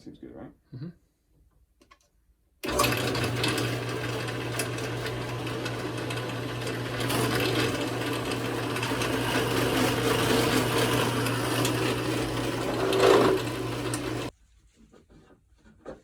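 A power drill runs steadily through a wood block, a continuous motor whine with a low hum lasting about twelve seconds, starting and stopping abruptly; faint voices and handling noise come before and after.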